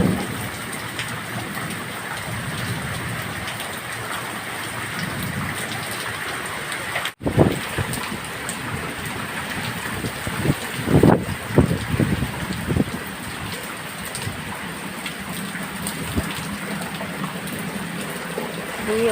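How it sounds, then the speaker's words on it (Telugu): Heavy summer rain pours steadily, a loud, unbroken hiss with gusts and occasional closer patters, and no talking heard. "ఇంచుమించు 1 hour అయిపోయింది ఇప్పటికీ వర్షం స్టార్ట్ అయ్యి,"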